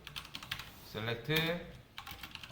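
Typing on a computer keyboard while entering SQL code: quick bursts of close, crisp key clicks with a short busier flurry in the middle, and no voices.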